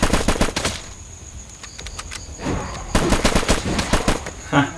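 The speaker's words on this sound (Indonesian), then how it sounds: "ada zombie, tembak aja lah." Gunfire aimed at zombies in an action video game, rapid bursts of close shots in several volleys with short pauses between them and no talking.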